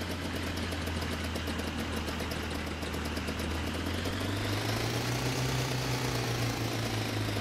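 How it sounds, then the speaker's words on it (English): A two-stroke-sounding aircraft engine running in a flight simulator, a steady droning hum at close range that rises in pitch toward the end, with no talk over it. "Like a two-stroke engine type of a plane thing."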